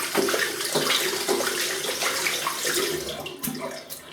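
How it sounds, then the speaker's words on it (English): Water runs from a tap into a bathroom sink as hands are rinsed, a close, fairly quiet, steady splashing with uneven bursts as the hands move under the flow. "Rinse my hands."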